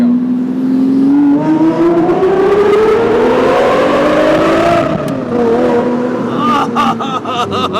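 Lamborghini accelerating hard, its loud engine note climbing steadily in pitch through the gears as it passes under a highway overpass, then easing off as the echoing roar fades, heard from inside the car.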